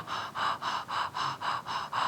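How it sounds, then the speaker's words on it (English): Rhythmic breathy panting exercise: a steady run of about eight forceful, evenly spaced breath pulses, close and clear with no talking. "but never stop the panting."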